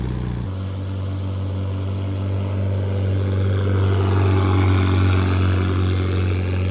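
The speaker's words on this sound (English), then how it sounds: "the mini jet boat is now ready to rips in the water" A small homemade jet boat engine drones steadily and loudly, a constant motor hum with water rushing alongside as it runs across the surface.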